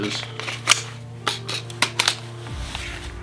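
A Recover Tactical 20/20N pistol being reloaded, giving a handful of sharp, close mechanical clicks and snaps spread over a few seconds above a steady low hum that cuts off partway through.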